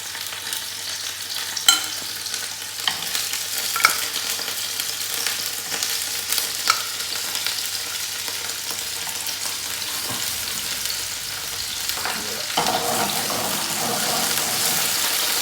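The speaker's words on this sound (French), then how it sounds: "on met notre asperge. Tout simplement à tiédir à l'huile." A steady, gentle sizzle of asparagus warming in oil in a pan, with occasional clicks and light clatter, continuous and fairly close.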